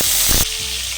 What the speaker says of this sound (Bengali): তেলটা গরম হয়ে গেছে, এবার পেঁয়াজ বাটাটা দিয়ে দিচ্ছি।